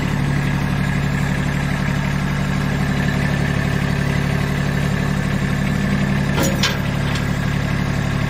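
Kubota B230 tractor engine running steadily while backing up, a constant close mid-pitched diesel drone at even loudness with a brief clank near the end.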